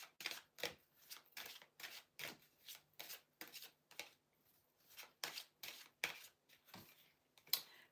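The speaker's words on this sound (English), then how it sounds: "I'm going to shuffle these ones." A deck of tarot cards being shuffled in a steady run of about a dozen crisp riffling bursts, each short and papery, close to the listener with no talking over it.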